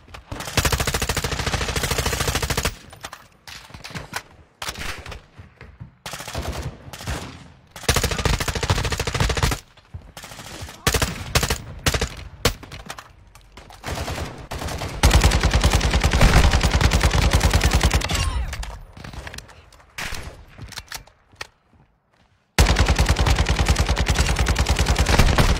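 RPK machine gun blasting in Fortnite, long loud bursts of rapid automatic fire broken by short pauses and a few quieter gaps, no talking.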